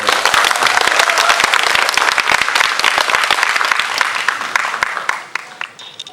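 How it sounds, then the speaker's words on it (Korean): Applause from the audience at a film screening and guest talk marking an actor's birthday and a theater opening: dense, loud clapping that carries steadily and then fades in the final second. "여러분 큰 박수 부탁드릴게요."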